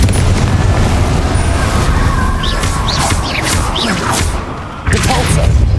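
Fiery Confringo explosion spell from Hogwarts Legacy, a loud continuous blast and roar with whooshing bursts layered over dense combat noise, dropping briefly before surging again.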